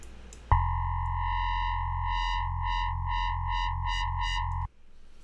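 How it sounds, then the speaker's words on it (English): A steady, buzzing tone from cross-modulated synthesizer oscillators with a harsh metallic edge and a pulsing, warbling shimmer, held for about four seconds, then cut off abruptly. "we started to cross-modulate those oscillators together"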